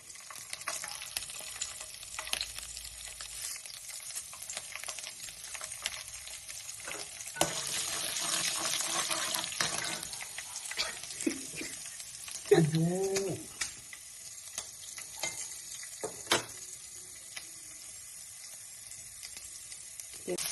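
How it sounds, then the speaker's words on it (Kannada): Onions fry in oil as part of an oggarane tempering with urad dal for onion rice: a steady, close sizzle with occasional stirring clicks and a brief chirp-like squeak midway, with no voice. "ಸೊ ಈರುಳ್ಳಿ ಹಾಕಿದ್ದೀನಿ. ಇದನ್ನು ಸಾಫ್ಟ್ ಆಗೋದಂತ ನೀಟಾಗಿ ಬೇಯಿಸ್ಕೊಬೇಕು."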